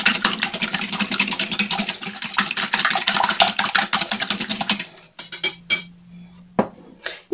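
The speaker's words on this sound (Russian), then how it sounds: "Теперь яйцо с солью хорошо разбиваем." Eggs and salt are beaten in a bowl with fast, steady rhythmic clinks and scrapes, close and fairly loud, that stop partway through and give way to a few sparse knocks and quiet kitchen sounds.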